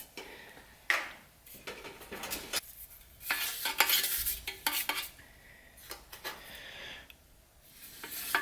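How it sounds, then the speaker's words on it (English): Brush dabbing and scraping runny flux paste into a metal weld seam, a series of close, irregular wet swishes and scratchy strokes with small clinks between them. "I'm just going to paint it on like the inside of the seam"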